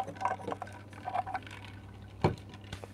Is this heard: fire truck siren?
no